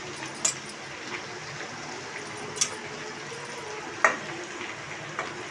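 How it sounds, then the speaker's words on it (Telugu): Tender tamarind leaves go into chicken frying in a pan, giving a steady close sizzle with a few scattered clicks and taps of stirring, no talking. "ఇప్పుడు చింత చిగురు వేసుకుంటున్నాను."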